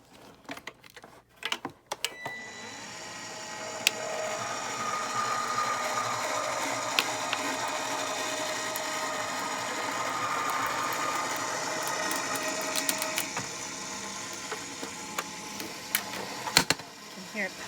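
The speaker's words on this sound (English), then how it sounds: "You can hear it popping and cracking, and that's okay. Just means it's cutting out our shape here." A die cutting machine presses through plastic cut from a bottle, giving a steady mechanical whir with sharp pops and cracks scattered throughout, after a few initial clicks and handling noises.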